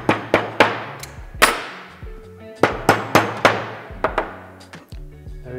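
Pliers tap a hollow dowel into place during a Rotrex supercharger kit install, giving a run of about a dozen sharp metallic knocks in uneven clusters, each ringing briefly before the next.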